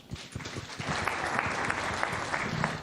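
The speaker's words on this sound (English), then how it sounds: "Good applause for her." Steady applause from an audience at a live event, a dense wash of many hands clapping at moderate distance, continuous for the whole stretch without voices.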